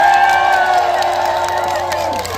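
Concert crowd at an outdoor music festival in Gurye, cheering and shouting continuously with some clapping mixed in, a loud dense roar from the audience with faint musical tones running underneath.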